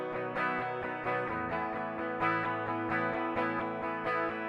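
Unamplified direct-input electric guitar tracks for a song, clean, thin strummed chords with a steady rhythmic attack, played alone and fairly quiet.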